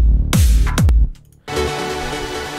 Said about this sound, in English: I'm using a LFO tool on it, so I'm ducking it to the kick.